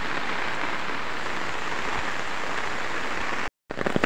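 Heavy rain pouring onto a flooded road with knee-deep water, a dense continuous hiss of drops hitting the surface, close and loud, briefly cutting out near the end before resuming.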